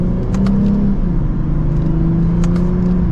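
A 2024 Lexus IS350 F Sport on a test drive, heard from inside as a steady, close engine and road drone with a gentle rise in pitch as it accelerates.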